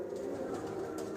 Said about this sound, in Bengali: এই যে আমার পায়রা, 7খানা পায়রা